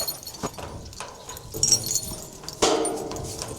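A bunch of keys jangles and clinks in a few short bursts, close and moderately loud, with light handling noise between the metallic shakes.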